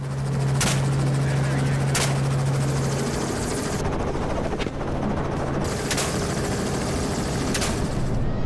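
A compact hunting helicopter such as a Hughes 500 or Robinson R-44 on a Texas hog hunt flies steadily close by, its loud rotor and engine drone continuous, punctuated by several sharp gunshot-like cracks.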